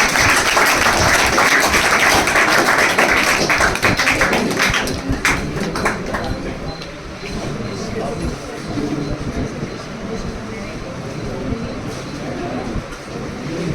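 An audience applauds at an honouring ceremony for selected students, a dense steady clatter of many hands that runs throughout, with voices mixed in under it.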